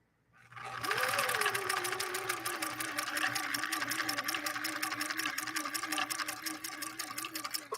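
A Viking Husqvarna 19E sewing machine stitching a 3x3 zigzag, its motor starting up and then running a fast, even rhythmic clatter of needle strokes with a steady whining hum, close and loud throughout.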